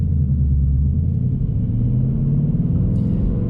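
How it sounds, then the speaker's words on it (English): The engine of a 2024 Ford Mustang Dark Horse rumbles deep and loud from inside the car in normal mode, a throbbing low burble that rises gently as it accelerates, with no talking. "even in normal mode, normal driving, this car sounds amazing"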